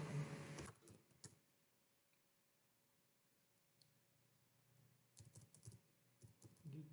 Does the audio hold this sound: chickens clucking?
no